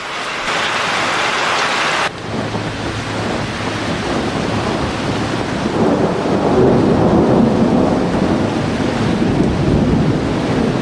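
Heavy rain pouring steadily with rumbling thunder, a loud continuous wash of broadband noise that shifts after an early burst and builds slightly, with deep low rolling underneath.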